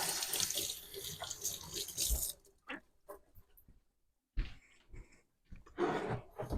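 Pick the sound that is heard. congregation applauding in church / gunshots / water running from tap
water running from tap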